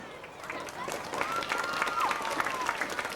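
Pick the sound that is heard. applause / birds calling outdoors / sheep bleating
applause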